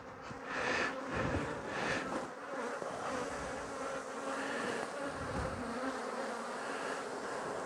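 Honey bees from a crowded, populous colony swarm around an opened hive, making a dense, continuous buzz close by that rises and dips slightly as they fly, with no voices.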